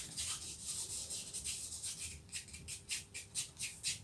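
Oil paint is scraped across a painting's surface, a soft, rhythmic rubbing and scratching that swells and fades in quick strokes, faint and close with no talking.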